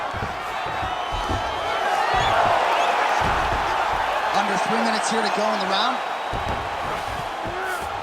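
Crowd noise in the UFC 5 video game during a simulated fight: a broad wash of cheering and applause swells and stays loud while a commentator talks over it, with brief whoops and thuds scattered through.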